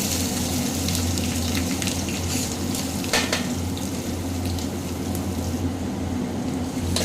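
Onions, green chillies and curry leaves fry in oil for a vegetable kurma, giving a continuous close hissing sizzle over a steady low hum, with a brief stirring scrape midway.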